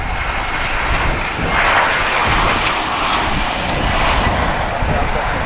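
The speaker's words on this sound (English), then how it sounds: "Coming in from San Francisco, American Flight 1198." An American Airlines airliner on approach to land at Dallas/Fort Worth airport gives a loud, steady jet engine roar that fills the whole stretch, with no break.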